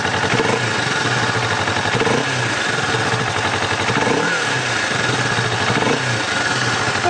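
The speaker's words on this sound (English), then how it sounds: "Now when these are cold, it'll idle fast for a minute or so" A cold 2015 Kawasaki Vulcan S ABS motorcycle engine idles steadily at a fast, slightly elevated pace, loud and close, with an even throbbing rumble throughout.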